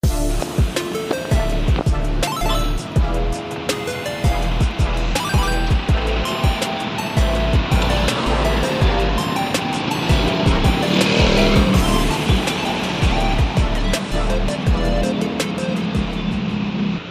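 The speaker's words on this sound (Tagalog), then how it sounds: "Monday traffic jam, September 25," Monday traffic jam on 11th Street in New Manila, a dense and continuous wash of vehicle noise with frequent sharp clicks and knocks, plus passing engines rising and falling close by.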